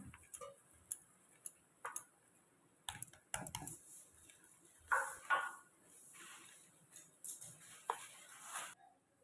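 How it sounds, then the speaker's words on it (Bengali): Cake batter for a mango cake being stirred in a bowl: faint, sharp ticks and clicks of a spoon knocking the bowl, coming in irregular clusters with soft scraping between them. "এবারে সব কিছু দিয়ে ভালো করে মিশিয়ে নেব"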